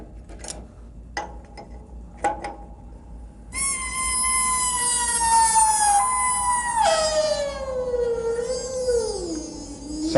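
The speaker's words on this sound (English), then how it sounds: "And we are now ready to release the 800-pound spring." A heavy 800-pound spring in a Dodge A518 (46RE) transmission is released during teardown. A few faint clicks are followed by a long, loud, eerie squealing whine that wavers and slides downward in pitch.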